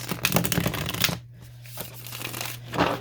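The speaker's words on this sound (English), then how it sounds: "Let's shuffle a couple times" Tarot cards are shuffled in quick riffling bursts nearby, with a short quiet pause in the middle before the shuffling resumes, under a faint steady hum.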